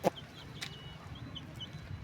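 Backyard chickens kept at home give a short cluck at the start, followed by faint soft clucks and chirps over quiet ambient noise.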